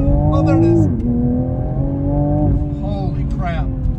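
A tuned Toyota Supra fitted with a JB4 tuner accelerating hard, the engine note rising through gears with turbo whoosh, heard from inside the car, loud and continuous with brief shift dips.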